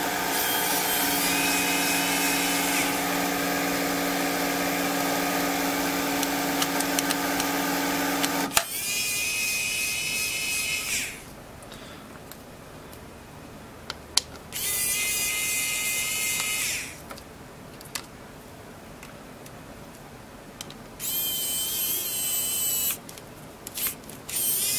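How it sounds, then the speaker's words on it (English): Screws are taken out of an Amazon Kindle Fire HD 10 tablet, heard as a high buzzing motor whine that starts and stops in several separate bursts, with quiet gaps in between and no talking. "I'll go ahead and remove all the screws."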